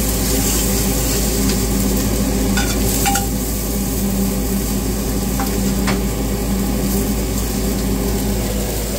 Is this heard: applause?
no